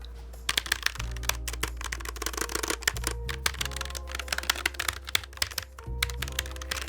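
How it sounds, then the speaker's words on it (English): Fast typing on a Logitech G915 TKL low-profile keyboard, a close, steady flurry of soft key clacks with heavier thumps, with no speech over it. "let's do a typing test so you can hear the sound for this"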